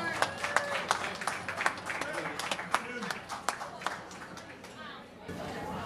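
Audience applause for a performer at a live memorial fundraiser show, with scattered claps and chatter running steadily for several seconds before thinning out, voices audible underneath.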